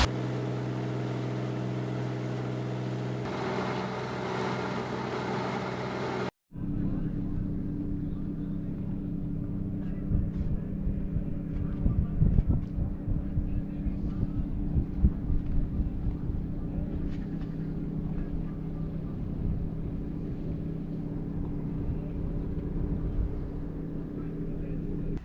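Sailboat motoring on engine across glassy, windless water at about 6.5 knots toward anchorage at San Evaristo, a steady low rumble with wind buffeting on the microphone, opening with a brief louder segment before an abrupt cut.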